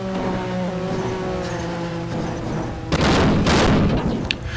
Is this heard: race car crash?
yes